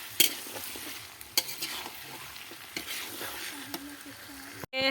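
Potatoes frying in a pan are stirred, giving a soft continuous sizzle broken by several sharp scraping clacks of the utensil against the pan, close and moderately quiet, with a loud knock right at the end.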